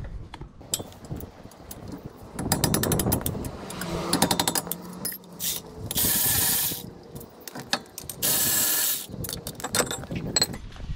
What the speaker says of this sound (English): Removing the caliper mount.